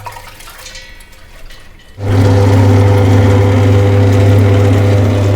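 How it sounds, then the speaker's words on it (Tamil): A wet grinder starts up abruptly and settles into a loud, steady hum with a wet churning rush as it grinds soaked urad dal, running continuously after a quiet start. "இப்போ இதை கிரைண்டரில் போட போகிறோம்."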